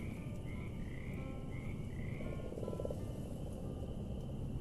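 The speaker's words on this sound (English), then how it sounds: "This is where the big frogs are." Big frogs in the video game Mortal Shell croak steadily in a low, grainy chorus, repeated throaty calls layered over a constant dull ambient rumble with no talking.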